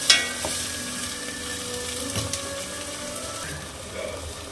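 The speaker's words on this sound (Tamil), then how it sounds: "அதையும் இதை போட்டு நல்லா பச்சை வாசனை போகிற வரைக்கும் நல்லா வதக்கிட வேண்டியதான்" Ground ginger-masala paste sautéing in a pan for prawn biryani, a constant dense sizzle with a few faint stirring scrapes, near and steady with no voices.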